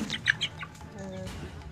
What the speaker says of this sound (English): a Thai farmer captured this 2015 video of a chicken with nearly 4 legs at birth